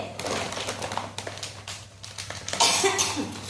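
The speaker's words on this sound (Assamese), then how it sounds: "কাহ উঠি আছে কিন্তু।" Someone coughing repeatedly in short, harsh bursts through a close, noisy indoor space, with no speech.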